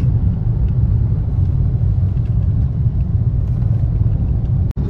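A car drives uphill on a mountain ghat highway while overtaking, giving a steady, loud low engine and road rumble throughout with no speech.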